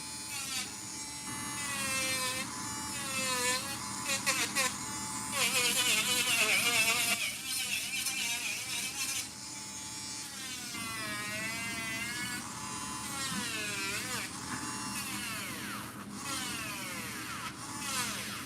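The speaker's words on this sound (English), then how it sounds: "if your drill stops, that means you just need to turn your drill up to a higher speed" A small electric nail drill whines steadily up close, its high buzzing pitch rising and dipping as it grinds down acrylic nails.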